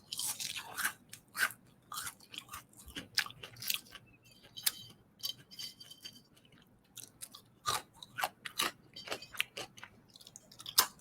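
Crunchy snacks are bitten and chewed right at the microphone in a Thai ASMR eating session: sharp, irregular crunches and crackles spaced by quiet pauses, with no speech.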